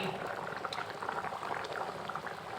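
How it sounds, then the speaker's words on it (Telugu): Fish curry seasoned with ground red chilli bubbles steadily in a pot, a continuous soft simmering hiss and burble with no distinct beats, close and moderately quiet. "కూరనైతే మసులుతుంది"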